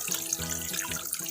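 Water is sprayed into a daphnia culture container, giving a brief, steady hissing splash with watery, gurgling tones, close and moderately loud, with no talking.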